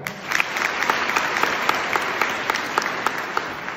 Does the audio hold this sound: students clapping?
yes